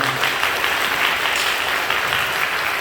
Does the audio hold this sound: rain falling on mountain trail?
no